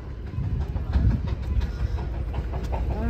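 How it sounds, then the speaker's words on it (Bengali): The Darjeeling toy train runs at Batasia Loop with a low, rumbling clatter of wheels and carriages. It is fairly muted and sounds somewhat distant, with faint ambient noise around it. "বাতাসিয়া লুপ থেকে আমরা টয় ট্রেন দেখবো।"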